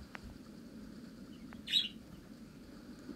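Bird chirps in the video game Ultimate Fox Simulator 2, a short faint bright call near the middle over a steady low ambient bed, with a couple of tiny ticks nearby.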